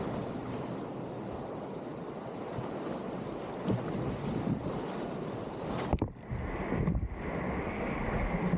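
Whitewater rapids roar on a Maine river during a canoe run, a loud broad rush with wind buffeting the microphone, briefly cut off and muffled before the rushing returns.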